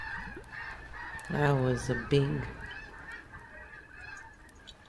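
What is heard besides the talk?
a large group of geese honking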